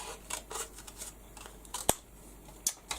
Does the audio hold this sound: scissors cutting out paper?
yes